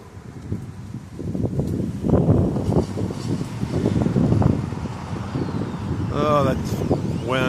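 Wind buffets an outdoor microphone with low rumbling gusts and crackle, while a person talks over it and a bird chirps briefly near the end.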